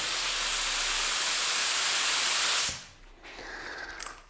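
A cheap paint spray gun hisses steadily with a bright rush of air and atomized paint for a few seconds, then cuts off abruptly, leaving faint room noise and small clicks.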